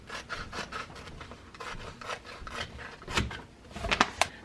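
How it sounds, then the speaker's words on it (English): Heat transfer vinyl being trimmed on a jean jacket, giving soft repeated rubbing and scraping strokes that end in a few sharper, louder scrapes near the finish, with no talking. "I am going to trim the excess vinyl off."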